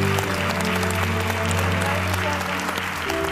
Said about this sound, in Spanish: público, esto se merece un aplauso